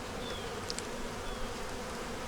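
Honey bees buzzing around a kept hive, a faint, steady hum with no voices.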